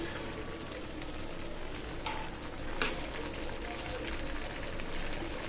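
Potato and pointed gourd curry with small dried loitta fish sautéing in a pan, a steady close sizzle and crackle with occasional scraping stirs, continuous and fairly loud.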